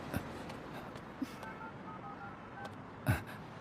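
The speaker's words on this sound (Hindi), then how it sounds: "मैनेजर को फोन करो।" A telephone is dialed in a scene from a Hindi-dubbed South Indian action thriller film: faint keypad tones sound over a low background hum, punctuated by a few soft thumps.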